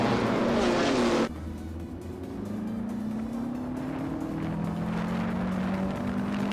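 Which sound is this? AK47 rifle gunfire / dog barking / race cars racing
race cars racing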